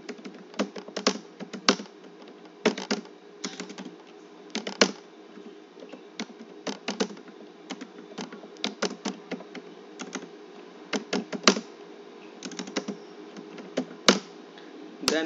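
Someone types remarks on a computer keyboard in an office banking application, producing bursts of quick, close key clicks with short pauses between runs, with no talking.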